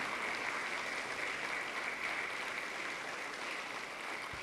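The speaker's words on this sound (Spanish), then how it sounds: "Dele palmas fuertes al Señor" A church congregation claps loudly and steadily, a dense, continuous wash of applause filling the room from start to finish.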